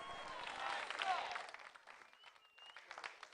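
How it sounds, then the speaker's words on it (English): An audience breaks into applause to welcome the Palace Ministers step team at a Celebrations TV event, with loud clapping and cheering that swells in the first second and a half, then thins into scattered claps. "let's welcome the Palace Ministers with a big, big, big round of applause"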